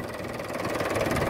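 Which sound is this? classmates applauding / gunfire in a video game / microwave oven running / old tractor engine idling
old tractor engine idling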